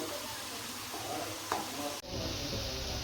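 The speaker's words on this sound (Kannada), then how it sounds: "ಈಗ ನಾನು ಪುನಃ ಇವನ್ನ ಹಾಕಿ ಮತ್ತೆ ಫ್ರೈ ಮಾಡ್ತಾ ಇದ್ದೀನಿ ನೋಡಿ ಫ್ರೆಂಡ್ಸ್" Potato French fries dropped back into hot oil for a second fry, giving a steady dense sizzle and bubbling hiss at close range, with a brief stirring clink midway and no talking.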